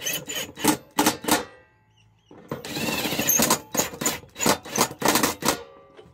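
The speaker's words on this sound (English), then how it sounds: "let's use our rattle gun on minimum setting." A pneumatic impact wrench on its minimum setting works on a dirty heater of a 6x6 Land Rover Perentie ambulance, firing in short rattling bursts with one longer sustained run in the middle, close and loud.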